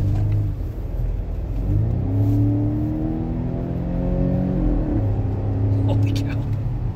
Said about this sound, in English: I'll give it a little bit of a rev. We'll play with the engine just a bit.